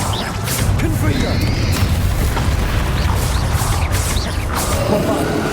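Confringo fire blast spell in Hogwarts Legacy, a dense roaring boom with crackling bursts repeating over several seconds amid game effects, loud and continuous.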